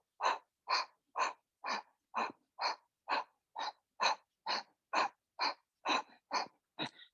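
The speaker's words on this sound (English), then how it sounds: "Add a gentle fire breath." Rhythmic fire breath during a yoga flow, about fifteen sharp forceful exhales through the nose spaced evenly around half a second apart, close and steady with silence in between.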